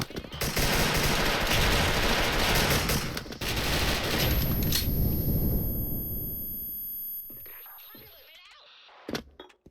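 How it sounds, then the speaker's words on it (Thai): Rapid bursts of TAC-50 sniper rifle gunfire in the game Special Force crackle loudly and close for several seconds, then fade into a ringing tail with a few scattered sounds. "ไอโบสเองยิงไม่โดนได้ยังไงครับเนี่ย"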